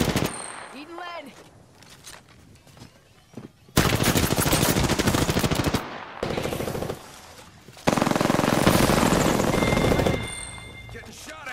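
Video game gunfire: long, loud bursts of rapid automatic fire come in separate volleys with short quiet gaps, with some speech between them.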